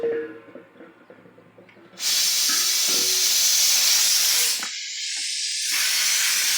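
Refrigerant discharged from an air conditioner being serviced bursts out in a loud, steady rushing hiss after a couple of quieter seconds, holding strong and briefly dipping in level before continuing, close by.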